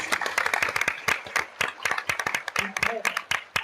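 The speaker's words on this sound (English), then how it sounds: "give them a round of applause" An audience applauds at a business event on energy, a dense, steady spread of hand claps lasting several seconds, fairly close, with a voice or two mixed in near the end.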